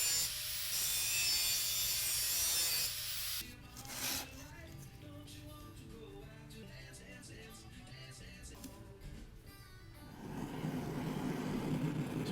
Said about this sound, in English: I'm cutting off those corners there with the angle grinder and then smoothing out that shape there